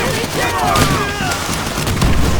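Continuous Call of Duty: World at War gunfire and explosion blasts, loud and dense, with excited shouting talk running over the whole stretch.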